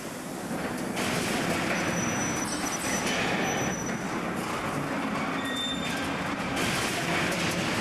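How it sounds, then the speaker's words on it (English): Heavy rumbling and metallic grinding of a railway wagon being tipped and set back onto the rails at a plant in North Lincolnshire, with occasional squeals, steady and fairly loud throughout. "we can see one of the wagons being tipped and returning back onto the rails."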